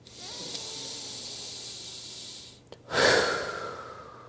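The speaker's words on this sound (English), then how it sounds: "Take one last breath." A long, steady in-breath taken during meditation, soft and close, followed after a brief pause by a louder, breathy exhale that fades away.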